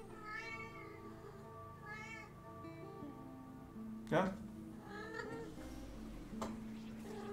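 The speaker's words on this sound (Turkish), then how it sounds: "Ne miyavlıyorsun öyle?" Cat meowing indoors during a Teamfight Tactics game session, several short meows spread through the clip beneath ongoing talk and game sounds, with one louder cry midway.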